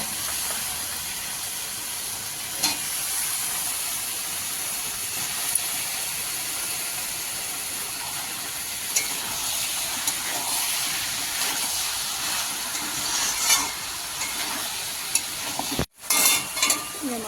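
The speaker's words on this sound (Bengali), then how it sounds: "মশলাটা কষানো হয়ে গেছে কেটে রাখা ঘিমগুলো দিয়ে দিচ্ছি" Chopped beans go into a sizzling, well-fried spice masala for a rohu fish curry and are stirred. A steady close sizzle carries scraping stir strokes throughout, with a brief break near the end.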